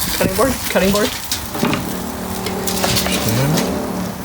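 Food sizzling in a pan on an outdoor grill, a steady frying hiss running beneath voices and a few brief clanks and tonal squeaks.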